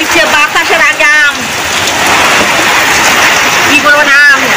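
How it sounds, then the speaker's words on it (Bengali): Heavy rain pours down in a village with a steady, loud, close hiss. A voice talks at times over the downpour. "বৃষ্টি এসে গেছে।"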